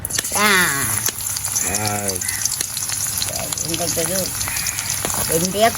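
Garlic frying in oil for a Jaffna-style fenugreek curry gives a steady, fairly loud sizzle that runs throughout beneath continuous nearby talking.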